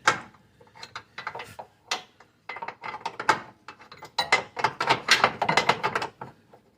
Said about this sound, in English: put your wrench in. Start tightening it down.